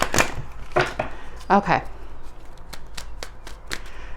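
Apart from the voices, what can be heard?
shuffling tarot cards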